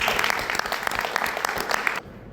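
Church congregation at a marriage-themed service applauds together, a busy burst of clapping that holds steady, then cuts off abruptly near the end into quiet room tone.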